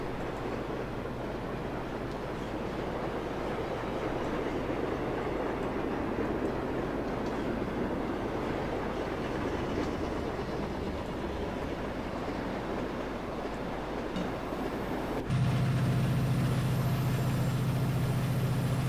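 A Class 68 locomotive hauling a container freight train in a train simulator game runs with a steady, loud rumble throughout, its tone shifting to a heavier low drone near the end.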